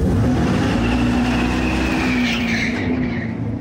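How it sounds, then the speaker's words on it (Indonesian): A fully electric Dodge Charger gives a loud, continuous synthetic exhaust roar, mixed with tire squeal and skidding noise that fades slightly toward the end. "meski suara dan bau karet bannya nyata, tapi ciri khas suara knalpotnya adalah buatan"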